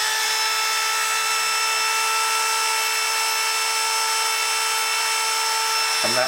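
Dremel rotary tool grinding a burr off a metal nameplate for a Class 37 locomotive model, a steady high-pitched whine held loud and close throughout, cutting off abruptly near the end.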